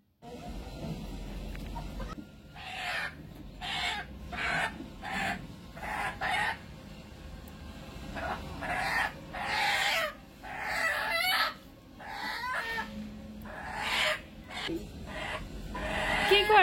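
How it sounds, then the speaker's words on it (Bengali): Domestic backyard chickens kept at a flat cluck and crow in a run of repeated calls, fairly close, over low background noise and occasional talk. "আমি তো এদিক দিয়ে বারান্দার থেকে মুরগি ধরে নিলাম, যেতে মুরগি রান্না করব আজকে।"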